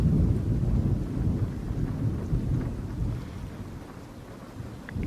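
A thunderstorm on an island, with steady heavy rain and deep rolling thunder rumbling continuously, loud and enveloping throughout with no voices.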